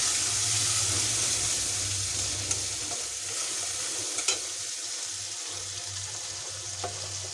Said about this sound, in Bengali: মশলাটা কষাই নিই